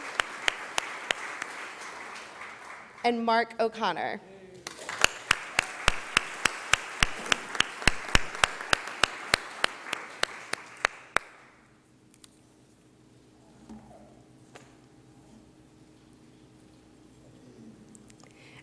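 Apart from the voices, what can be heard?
audience applause at mayor's press conference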